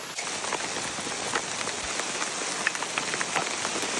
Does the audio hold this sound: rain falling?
yes